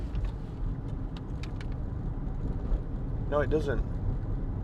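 Honda CR-V 1.6 i-DTEC diesel engine grumbling at low speed in sixth gear, a low steady drone inside the cabin, with someone speaking briefly over it.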